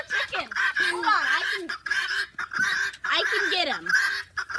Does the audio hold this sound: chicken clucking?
yes